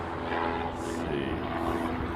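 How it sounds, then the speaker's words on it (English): A Lockheed KC-130J Super Hercules turboprop passes at an airfield in Hawaii, giving a steady droning engine roar at moderate distance with no breaks. "Apparently that's a KC-130J Super Hercules."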